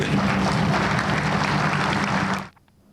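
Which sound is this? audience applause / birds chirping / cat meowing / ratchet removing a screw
audience applause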